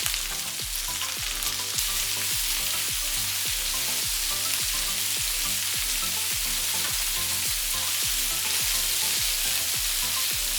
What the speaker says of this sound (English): we stir-fried them for several minutes